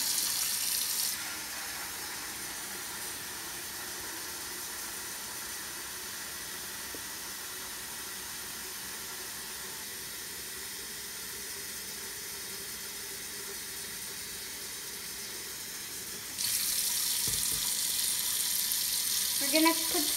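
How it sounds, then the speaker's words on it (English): Tap water runs steadily into a lemonade container, a broad continuous hiss of filling water that carries on at an even level, with brief clinks near the end. "now we're gonna put some water inside the container"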